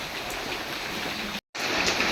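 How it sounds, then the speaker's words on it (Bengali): Heavy rain pouring down steadily outdoors in a Bangladeshi village home around midday, a dense continuous hiss with a brief total dropout partway through before the downpour resumes. "এবার যে বৃষ্টিও জোরে নামতেছে"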